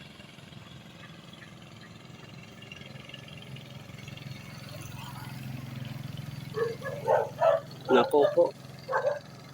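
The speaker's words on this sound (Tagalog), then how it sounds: "Kumakaw yung mga aso pag dumaan dito guys." Several dogs bark in a quick run of sharp, fairly close barks and yips near the end, after a stretch of low engine-like rumble. A person says a few words.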